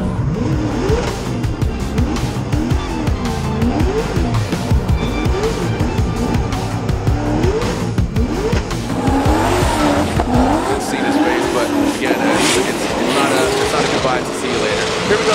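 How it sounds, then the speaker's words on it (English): Subaru BRZ drift car with a turbocharged LS engine wailing through repeated rising and falling revs while its tires squeal and skid at a Formula Drift event at Irwindale, loud and sustained, with an announcer talking over it. "This turbocharged LS under the hood, winding it up past that first front clip."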